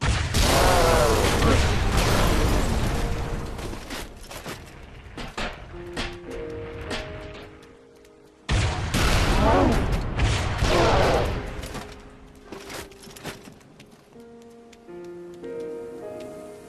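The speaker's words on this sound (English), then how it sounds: "blast them with the rocket launcher" Two loud rocket launcher blasts against Hunters in Halo 3 ODST, each a sudden close roaring explosion trailing into rumbling debris and scattered crackle, followed by quieter game sounds and music tones.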